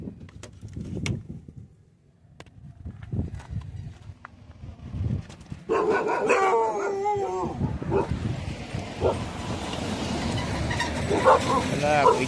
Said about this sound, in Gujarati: કુતરા આવી ગયા, ભસે છે.